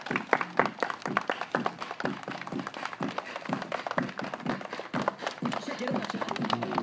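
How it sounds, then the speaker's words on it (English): A group of people clap their hands during a children's dance-and-freeze movement game, making rapid, uneven claps that carry on throughout with background voices. "Everybody clap your hands."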